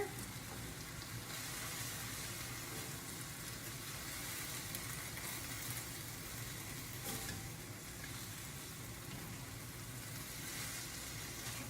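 Pad Thai sauce with chopped peanuts simmering in a pan, a continuous steady sizzle and bubbling hiss with faint scraping, unchanging and close, with no talking.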